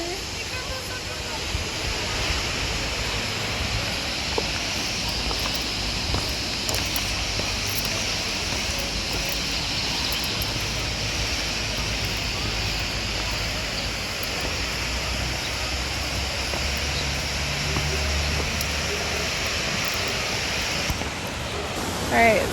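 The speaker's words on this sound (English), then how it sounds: "This is the waterfall and it goes all the way down there." Roaring waterfall at Baatara Gorge in Lebanon, a steady broadband rush of falling water heard from nearby, with wind buffeting the microphone and occasional talk underneath.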